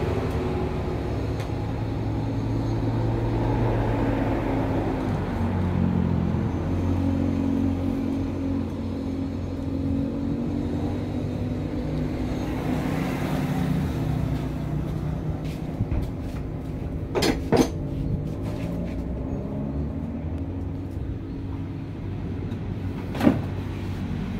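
Honda Scoopy and Yamaha motorbikes pass along a road in a steady stream of traffic, their engines rumbling continuously at close range with a few brief sharper clatters near the end.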